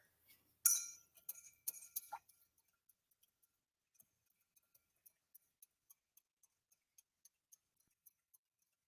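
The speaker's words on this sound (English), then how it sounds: "And then you're going to stir it." A cocktail with Angostura bitters stirred in a glass, giving a few bright clinks of spoon against glass followed by a long series of faint, evenly spaced light ticks, close and quiet.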